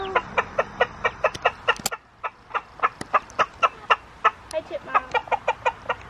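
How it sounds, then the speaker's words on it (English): A young rooster gives a rapid series of sharp, evenly spaced clucks and short crowing calls, close and clear, with faint background noise in a home setting. "Yeah, that's a little rooster,"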